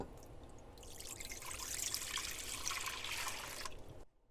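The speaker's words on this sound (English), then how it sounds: "You're going to take your 3 cups of juice and pour it into your pot." Grape juice, 100% juice, poured from a container into a cooking pot for homemade jelly, a steady splashing trickle lasting about four seconds before stopping abruptly, close and alone with no talk.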